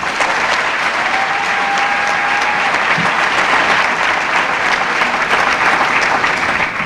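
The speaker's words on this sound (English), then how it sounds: "I'd first like to ask for a round of applause for the parents, teachers, friends, and administrators here with us today" Steady, dense applause fills a school gym at a 2017 Catskill graduation ceremony, a large crowd clapping continuously at even loudness throughout without pause.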